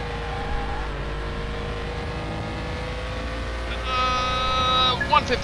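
A car engine in Car Mechanics Simulator 2021 running on a racetrack, a steady droning hum that rises into a higher revving whine toward the end.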